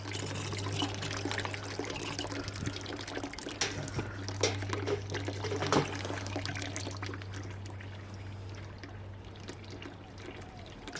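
Water draining out of a BrewZilla Gen4 brewing kettle during cleaning, a steady gurgling pour and trickle over a constant low hum, fairly faint and tapering slightly toward the end.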